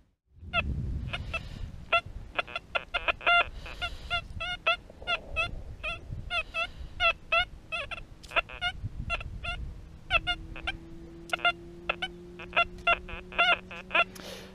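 Metal detector giving repeated short electronic beeps and warbling tones as it sweeps over an iron target, with a steady hum entering in the second half.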